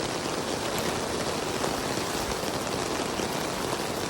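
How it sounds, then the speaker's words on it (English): Heavy rain pours down steadily, a dense, continuous hiss of drops with no letup. "It is really raining now."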